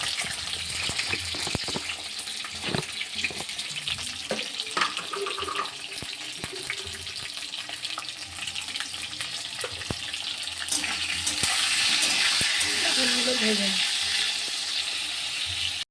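Pointed gourd slices fry in a pan for a vegetarian curry, giving a steady close sizzle and crackle throughout, growing a little louder and busier near the end.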